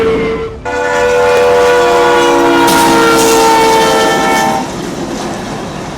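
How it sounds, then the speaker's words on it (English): An Amtrak train slams into a car stuck on railroad tracks in northern Greenville County, its loud sustained horn blaring over rolling wheel clatter, swelling, then easing off toward the end. "an Amtrak train slamming into a car stuck on railroad tracks in northern Greenville County"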